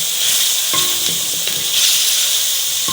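Spaghetti sauce sizzles and fries in a pan over medium-high heat, giving a loud, steady hiss close by, with a few light stirring scrapes.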